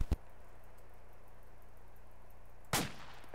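An M16A4 rifle with an RCO scope fires single semi-automatic shots in the ARMA 2 video game at a 200-meter range: two sharp, isolated cracks about two and a half seconds apart over a steady low background hum.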